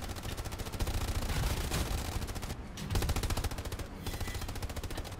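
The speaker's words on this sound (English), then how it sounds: "Start shooting the hell out of the forest anywhere you see potential enemy" Sustained machine gun fire in the World War II shooter Hell Let Loose, rapid evenly spaced bursts hammering continuously and loud, aimed into a forest, with no talk over it.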